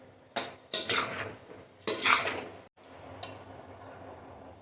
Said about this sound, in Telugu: వారు మంచిగా ముక్కలు కొడుతున్నారు కత్తిపీటతో